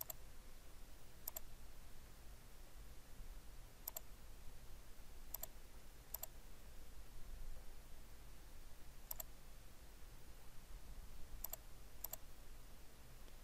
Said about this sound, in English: Right click, unpick last.